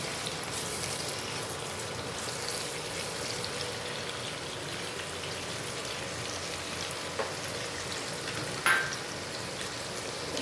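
Carrots frying in a pan for capsicum carrot pasta: a constant, soft hiss of sizzling oil with faint stirring scrapes and one brief clink near the end, no voices.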